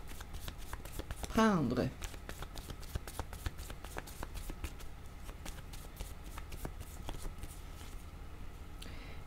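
Tarot cards are shuffled by hand in a steady stream of quick, close papery flicks, with a louder riffle early on, under a voice speaking French.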